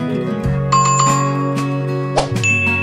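A bright bell ding used as a subscribe notification effect rings out twice over a steady musical backing, crisp and close.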